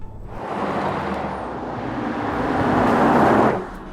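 A 2024 Porsche Taycan all-electric car accelerating under a temporary power boost, heard as a smooth, broad rushing roar of motor, tyre and wind noise that swells for about three seconds and then drops away, with no voices.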